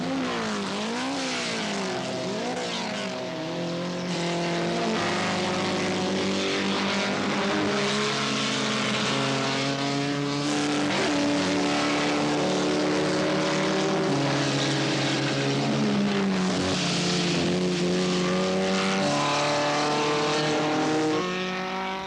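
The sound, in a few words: classic racing cars passing on track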